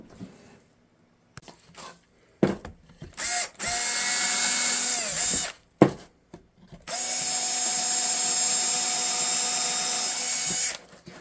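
A 12-volt DeWalt cordless drill drives construction screws: two long, loud whirring runs separated by a brief pause and scattered clicks and handling noises, close to the microphone.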